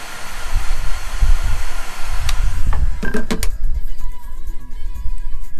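A heat gun warms plumbing fittings inside a VW LT 4x4 camper van, giving a loud continuous blowing hiss, with a few sharp clicks and knocks near the end.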